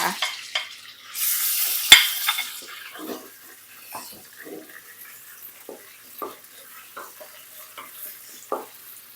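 Marinated pork dropped into a hot pan for stir-fried mee sua, starting with a loud hissing burst, then quieter sizzling crackle and intermittent spatula scrapes, with no talk.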